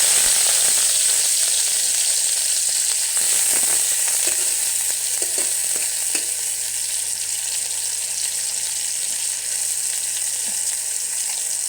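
Chopped onions fry in hot oil with a loud, continuous close sizzle and a few stirring clinks, for a chicken and bottle gourd dish.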